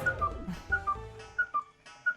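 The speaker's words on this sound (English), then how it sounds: "This is the whistle that they blew" A whistle is blown in a video game, giving several short, sharp shrill tweets in a repeating pattern over a softer backdrop.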